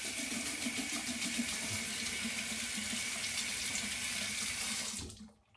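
A faucet runs steadily and close by while a razor blade is rinsed under the stream, with a continuous hiss that stops abruptly at the end.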